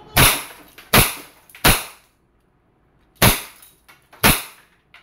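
A Wingun 708 CO2-powered revolver fired double action: five sharp, loud, close cracks in an uneven rhythm, each trailing off quickly, with a pause after the third shot.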